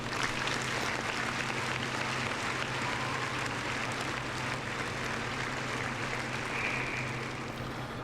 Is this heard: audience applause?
yes